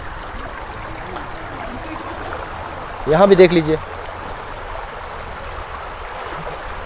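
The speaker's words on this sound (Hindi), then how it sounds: "पानी पूरी तरह ग्रीन हाउस से बहते हुए खेतों की तरफ जा रहा है।" Floodwater in Ziro pours out of a flooded greenhouse toward farm fields after incessant rain, a steady close rush that runs throughout while someone speaks briefly over it.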